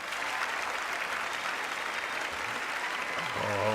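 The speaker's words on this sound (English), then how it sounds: "you got a few Republicans clapping there" Sustained applause from a large chamber audience at the State of the Union address, a steady distant wash of clapping, with a voice beginning to speak at the very end.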